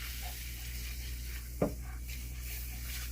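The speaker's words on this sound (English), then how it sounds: "we have our butter melted, so we're going to stir this around." Melted butter in a pan for apple pie filling sizzles quietly and steadily, with a single sharp utensil scrape or clink against the pan partway through, close and otherwise without talk.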